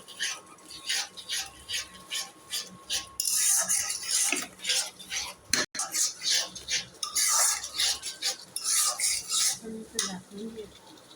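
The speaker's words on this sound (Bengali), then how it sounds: "ভালো করে কষিয়ে নিতে হবে, নাড়াচাড়া করতে হবে।" Spatula stirring and scraping curry in a cooking pan, repeated clinking and scraping strokes in a steady rhythm, close and fairly loud, with no talk.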